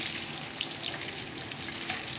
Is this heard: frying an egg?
yes